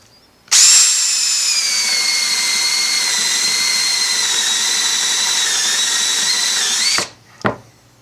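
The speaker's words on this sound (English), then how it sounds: "The drill does struggle a little bit going through it because it is a dense hardwood." A power drill with a 5/8 bit whines steadily at close range for several seconds as it bores through dense ash hardwood, struggling slightly, then winds down and stops.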